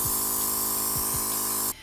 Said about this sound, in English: And I spray it all in one spot.